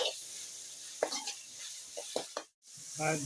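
Onions and tomatoes softening in a pan for egg kuzhambu, a faint low sizzle broken by a few soft spatula scrapes and a brief silent gap near the end.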